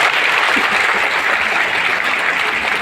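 Large audience clapping steadily together in honour of a team, a dense, even wash of applause that holds at a constant level throughout with no voices rising above it.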